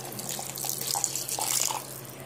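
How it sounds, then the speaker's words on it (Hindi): Water poured into ground peanut chutney before grinding, a soft trickling and splashing pour, close and fairly quiet, lasting about two seconds. "थोड़ा पानी भी डालेंगे,"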